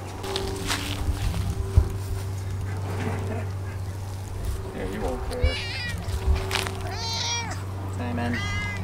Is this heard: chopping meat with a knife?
no